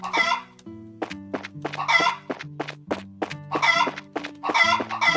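Video game chickens in Trails in the Sky SC cluck and squawk in repeated bursts, close and clear, with a short crow-like call among them and no talk over them.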